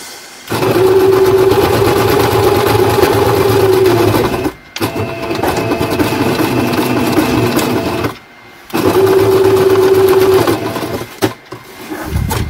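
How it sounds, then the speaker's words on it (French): Sewing machine running a straight-stitch seam on cotton fabric, a loud, close, steady mechanical whir in two long bursts with brief pauses between them, followed by a shorter run. "Donc, je finis ma couture au point droit."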